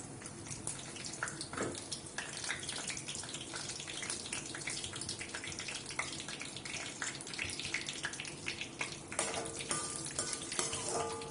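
Fennel seeds, cinnamon and cloves sizzle and crackle steadily in hot oil for a vegetable semiya biryani, a dense continuous frying hiss with occasional stirring, close and moderately loud throughout.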